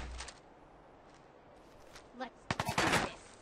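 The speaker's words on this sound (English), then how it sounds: "Where's that shooting coming from?" A quick burst of rapid gunfire breaks out near the end in Fallout 4 during an ambush, a few sharp cracks following a mostly quiet stretch with faint earlier noises.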